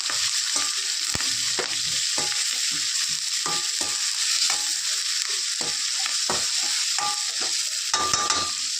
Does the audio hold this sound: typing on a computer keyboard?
no